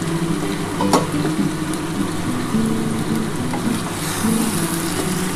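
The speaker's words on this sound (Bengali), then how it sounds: "এই যে চর্বিটা দিলাম এই চর্বিটার সাথে একটু ভালো করে কষিয়ে নিই" Mutton and fat sizzle steadily in a pan for a curry with potatoes, a continuous close frying hiss with occasional stir scrapes and no talking.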